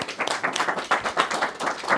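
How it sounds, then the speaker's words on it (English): Audience applause welcoming the first speaker, Sandra, at an angel investor training session on startup due diligence: a short burst of scattered hand clapping from a modest crowd, fairly close and uneven, with no talking over it. "we can give her a warm round of applause as well"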